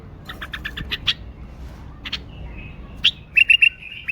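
A pet bulbul sings nearby in a quick run of bright chirps, then a pause, then more clipped whistled notes and a rapid triple call, loud and alone.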